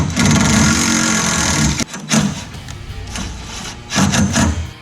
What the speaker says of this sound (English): I'm going to put some self-tapping screws through the instrument cluster into the roll bar